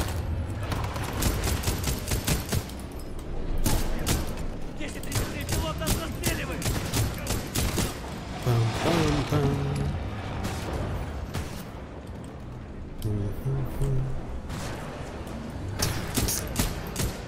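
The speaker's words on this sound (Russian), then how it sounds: "Чем он стреляет? У них это огненная пушка." Bursts of rapid gunfire crackle in repeated volleys in Titanfall 2, loud and close, with a voice talking at times between them.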